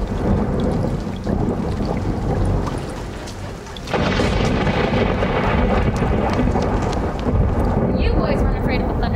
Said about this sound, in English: You boys weren't afraid of a thunderstorm, too, were you?